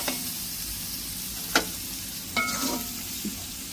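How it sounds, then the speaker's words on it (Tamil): Food sautéing in oil in a frying pan during home cooking, a steady soft sizzle broken by a few sharp scraping stirs of a spoon against the pan, close and alone with no talk. "நல்லா வதங்கட்டும்"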